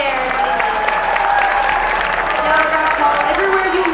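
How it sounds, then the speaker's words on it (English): Convention crowd applauding behind-the-scenes staff at Bronycon, a loud, continuous roar of clapping with cheering voices mixed in, close and steady. "Really, really, really big round of applause to everybody working behind the scenes."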